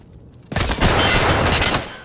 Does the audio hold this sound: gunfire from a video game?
yes